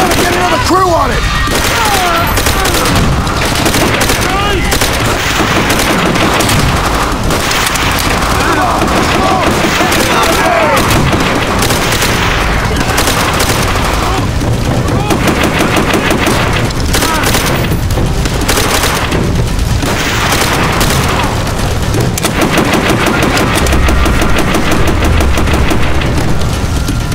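Sustained machine gun fire with booming explosions from a beach assault battle in Call of Duty: World at War's Pacific campaign, loud and continuous throughout with shouted voices mixed in.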